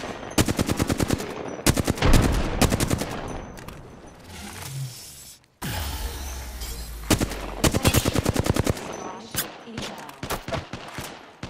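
Automatic weapon fire in the video game Apex Legends, repeated fast bursts of close, loud shots with brief gaps, a short lull and a deep thud midway, then more rapid bursts.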